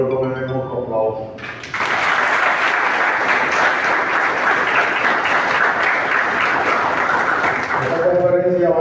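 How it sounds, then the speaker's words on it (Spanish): Sustained, loud audience applause fills a conference hall, starting abruptly after someone speaks and stopping as he resumes talking near the end. "Ya ustedes le dieron un aplauso, pero yo quiero que me den otro aplauso."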